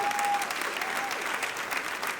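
Church congregation applauding together, a dense, steady wash of clapping from many hands that holds evenly from start to finish with no pauses.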